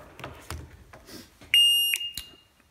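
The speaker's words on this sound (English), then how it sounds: "The buzzer will chirp, and it will continue the countdown." Gizmo Engineering timer buzzer giving two short, loud electronic chirps about half a second apart, following a stretch of quieter background noise.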